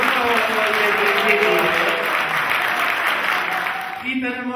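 Loud, dense applause from a large audience at a school's 40th anniversary cultural week event, sustained and then easing off near the end as a voice begins.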